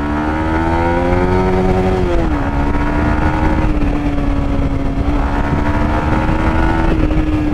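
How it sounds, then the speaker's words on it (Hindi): Yamaha MT 155cc motorcycle engine droning steadily while riding, a loud continuous tone with pitch dips around gear shifts, wind noise throughout and no talking. "एमटी में लग रहा नहीं है 155 सीसी का है, 200 सीसी का फील हो रहा है ये बाइक चला के"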